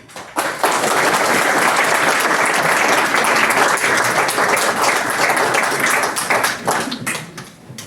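Sustained applause fills a municipal council meeting as members clap for newly named representatives on the social action board, a dense, steady round from the assembled room lasting several seconds before tapering off.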